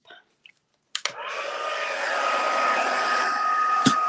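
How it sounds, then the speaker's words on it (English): An embossing heat gun is clicked on and blows a steady, whining rush of hot air over a card banner, with a couple of faint clicks before it starts and one sharp tap near the end. "We'll come in with our heat tool and just heat that up."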